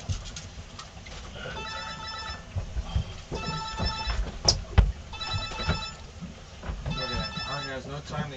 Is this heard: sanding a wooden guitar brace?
no